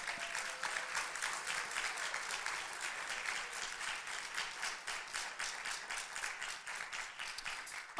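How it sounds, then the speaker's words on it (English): An audience at a high school winter band concert claps steadily, a dense, even patter of many hands held at a moderate level with a faint pulsing rhythm throughout and no speech. "yeah, you can clap for that."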